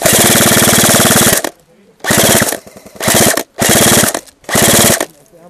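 Loud, rapid automatic gunfire in long sustained bursts separated by brief pauses, close and dominant, with about four bursts of dense rattling shots.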